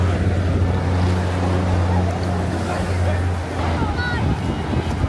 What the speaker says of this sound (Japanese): 海に来ました。